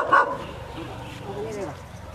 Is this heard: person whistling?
no